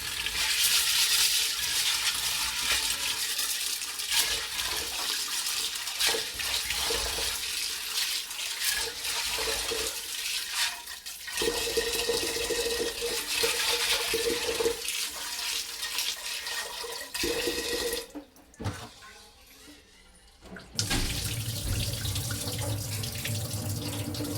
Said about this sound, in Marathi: ह्याला आता आपण स्वच्छ धुवून घेणार आहोत।